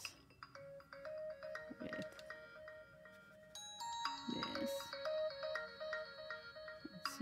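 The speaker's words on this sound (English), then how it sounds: "I'm sorry for the phone." A melodic phone ringtone plays through most of the stretch, a repeating sequence of bright electronic tones at moderate volume, with a few brief spoken words and small handling noises.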